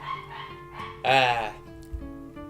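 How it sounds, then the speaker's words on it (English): A pet dog barking indoors in a home, one loud close bark standing out between quieter yips and a voice talking nearby. "Sorry about my barking dog."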